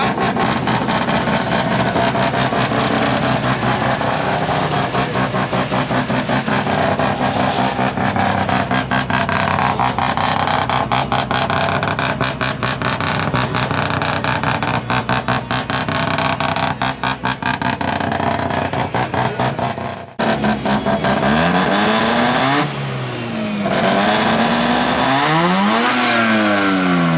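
A car engine at a Freedom Factory car meet holds a loud, steady rumble for about twenty seconds, then cuts off abruptly and comes back with rising and falling revs near the end. No talk is heard.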